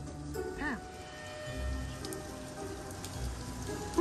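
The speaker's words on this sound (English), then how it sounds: "Shit, it's raining hard out there." Heavy rain falling outside, a steady dense patter and hiss heard from indoors, with a brief voice partway through and low background rumbles.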